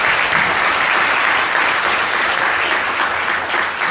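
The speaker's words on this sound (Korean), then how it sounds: "두 분 힘내시라고 박수 한번 부탁드리겠습니다" Sustained applause from a seminar audience on child group-home policy, dense and steady at close range for the full four seconds, with no one speaking over it.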